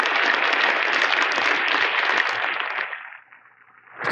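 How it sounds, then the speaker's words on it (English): Audience applause at a security conference closing ceremony, dense and sustained for nearly three seconds before thinning into scattered claps and a fresh swell at the very end. "can we get a round of applause for Troy Jessup and everything that he's doing?"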